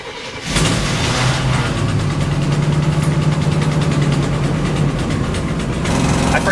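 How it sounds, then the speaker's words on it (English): A motorhome engine starts with its batteries linked for a boost, cranking briefly then catching into a loud, steady running drone that continues close by without a break. "So we're going to use the boost function now to link the batteries together to help start the engine."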